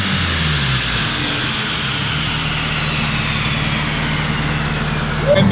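A Subaru STI engine runs hard on a dyno with a loud, steady mechanical drone and exhaust roar. It holds close and sustained, then swells briefly at the very end.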